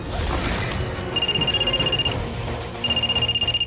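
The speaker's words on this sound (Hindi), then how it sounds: "ममता का फोन है क्या?" A telephone rings in two bursts of rapid electronic trilling, clear over faint background noise, with a short pause between rings.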